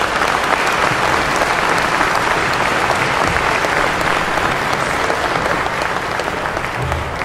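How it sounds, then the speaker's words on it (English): Audience applause after a keynote speech: steady, loud, sustained clapping from a large crowd filling the room throughout, with no voices standing out. "please give this gentleman one more give a round of applause"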